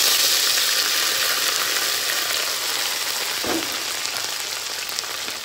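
Onion, ginger and cashew paste sizzling in hot ghee for a mutton korma, a steady close broadband crackle with a soft stirring scrape partway through, no voices.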